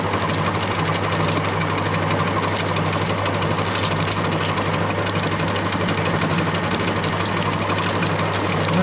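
A 220-volt feed pellet mill with slightly worn rollers and die runs continuously, a loud, close, steady mechanical hum with rapid rattling vibration and no pauses.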